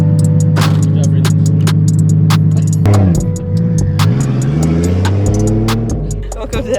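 A car engine with no exhaust pipe at Apple Valley Speedway throbs loudly up close, then drops and swells through uneven revs, with scattered sharp clicks and pops throughout.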